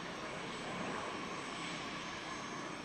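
A warbird propeller plane flies over an air show at Wings Over The Illawarra, a steady broad engine drone held at a distance, with no talk.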